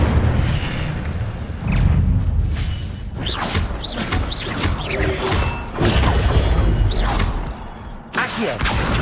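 Incendio fire spells cast again and again in Hogwarts Legacy, a series of loud booming bursts and thuds in an uneven rhythm, with short gaps between the blasts.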